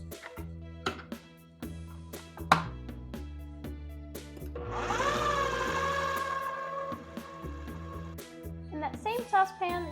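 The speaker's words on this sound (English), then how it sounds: "and then we're going to blend until smooth" A blender whirs steadily for several seconds, smoothing a cauliflower cheese sauce made with milk, with a voice talking before and after the run.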